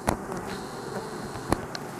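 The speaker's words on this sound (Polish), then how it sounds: "Proszę Państwa, co ten rój wyprawia?" Honey bee swarm at a hive, a steady insect drone of many bees holding through the whole stretch, with a couple of brief louder passes near the microphone.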